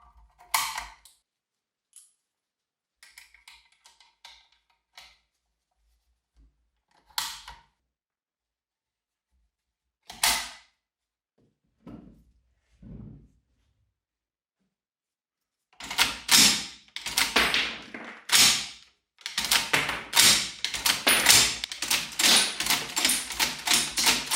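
The action of a restored WW2 machine gun cycles dummy rounds: sparse, sharp metallic clacks and ratchets near and alone at first, then a dense run of rapid mechanical clatter toward the end.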